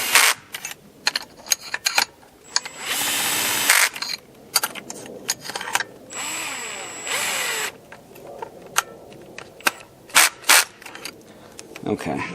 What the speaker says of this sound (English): While we're looking at this 12 volt tool, we'll just kind of watch it work here.